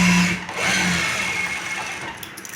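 Sewing machine running fast and close while stitching the top seam of a shalwar, a loud continuous mechanical whir that fades slightly toward the end.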